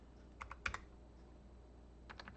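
Quiet typing on a computer keyboard, two short bursts of a few clicks each separated by a pause, close but faint over a steady low hum.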